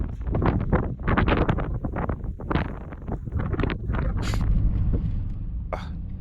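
Strong gusty wind on a bridge over the Columbia River at The Dalles, Oregon, buffeting the microphone in heavy low rumbling bursts that pulse and roll continuously, loud and close.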